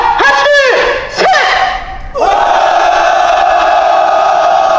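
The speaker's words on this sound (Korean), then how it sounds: "우리 모두 마음속에서의 분노를 담아서 함성 한번 질러보도록 하겠습니다" A protest march crowd lets out a loud collective roar of anger, two short bursts of shouting followed by a long sustained bellow of many voices together, close and forceful.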